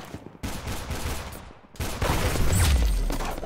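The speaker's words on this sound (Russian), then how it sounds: "Там стрельба, пальба" Dense, continuous gunfire from the Roblox shooter game Arsenal, sustained bursts of rapid shots that swell louder toward the end with a low rumble underneath, no voices.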